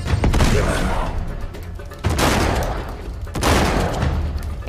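Video game gunfire in Uncharted 3 comes in three loud, dense bursts of rapid shots, each followed by a booming tail, close and dominating with no talk over it.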